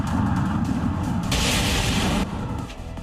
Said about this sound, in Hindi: सड़क पर जोरदार धमाका हुआ है।